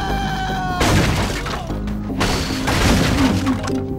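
A Molotov cocktail shatters in The Warriors game, a sharp glass break followed by a second crash and roaring flames, set against game music.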